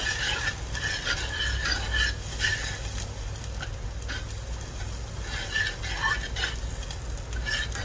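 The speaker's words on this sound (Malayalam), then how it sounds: "ഒരു 10-20 സെക്കൻഡ് നമുക്കിതുപോലെ മിക്സ് ചെയ്ത് കൊടുക്കാം" A spoon stirs buttermilk curry in a pot on the stove, giving a steady, soft scraping and swishing that repeats in short strokes close by, with no talk.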